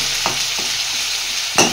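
Chopped onion frying in hot oil with a little sugar, a dense continuous sizzle with a few soft stirring knocks and a louder spatter burst near the end, close and unaccompanied by speech.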